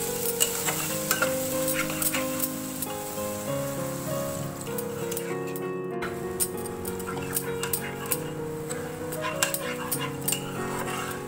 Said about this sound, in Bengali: এবার এই শুকনো মশলাটাকে আমরা একটুখানি নাড়িয়ে নেব, অল্প একটু জল দিয়ে নেব যাতে মশলাটা পুড়ে না।